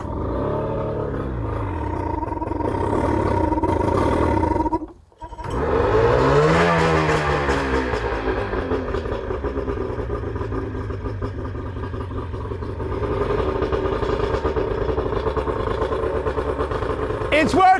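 An old boat engine with a broken choke runs loud and close, revving steadily, dipping out briefly partway through, then roaring back up and holding a rough, continuous drone.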